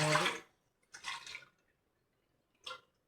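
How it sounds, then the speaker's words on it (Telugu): Glasses of water are tipped into a cooking pot for rice-flour or ragi vadiyalu batter, producing three separate short splashy pours with silent gaps between them, close and fairly quiet. "5 గ్లాసులు వాటర్ వేసుకున్నాం."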